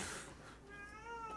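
A single cat's meow, faint and distant, rising then trailing off over about a second against a soft background hiss.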